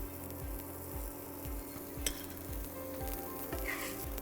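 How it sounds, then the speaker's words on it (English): Hing, ginger and green chili sizzle steadily in hot fat, a continuous close frying hiss with a regular low scraping rhythm like stirring and a faint clink partway through. "Let the hing cook a little, and at that stage, we'll add some ginger,"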